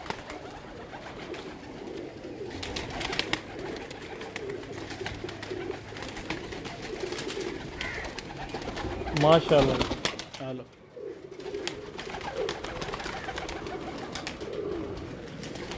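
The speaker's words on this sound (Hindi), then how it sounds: "तो ये स्पेशल कबूतर गिफ्ट है" Pigeons cooing at a pigeon breeder's loft, soft low coos under steady background noise while someone speaks briefly nearby.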